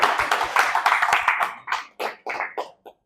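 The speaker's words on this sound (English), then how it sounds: "Please, another round of applause for this." A university award ceremony audience claps, a burst of hand claps that starts dense and steady, then thins into scattered, separate claps before fading out.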